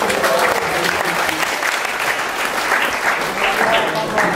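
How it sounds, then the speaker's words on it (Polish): An audience applauds after amateur theatre scenes performed by participants, a loud, continuous patter of clapping that holds steady throughout. "Tak więc jeszcze raz wielkie brawa."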